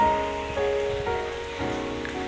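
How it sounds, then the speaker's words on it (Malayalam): Steady rain that began in the morning and has eased slightly keeps falling, a soft continuous patter on surfaces with no voices over it. "രാവിലെ തുടങ്ങിയ മഴയാട്ടോ ഇപ്പോഴും ഒന്ന് കുറഞ്ഞത് പക്ഷെ എന്നാലും പെയ്തുകൊണ്ടിരിക്കുകയാണ്"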